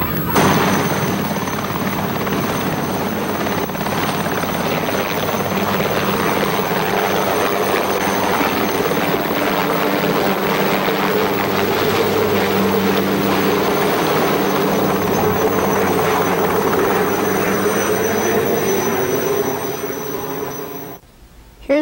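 A helicopter runs steadily and loudly close by near a crowd at a 1980 Otsego School event in Grand Rapids, Ohio, its rotor chop and engine drone continuous for about twenty seconds before cutting off abruptly.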